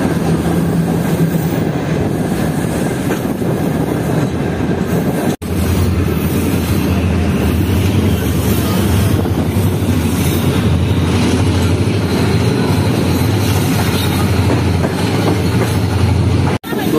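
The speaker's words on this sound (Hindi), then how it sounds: "ट्रेन हमारी अप्रोच कर रही है लांडी जंक्शन रेलवे स्टेशन पर" The Tezgam Express rolls into Landi Junction railway station near Karachi with a steady, loud rumble of wheels and carriages, sustained throughout, with two sharp breaks in the noise.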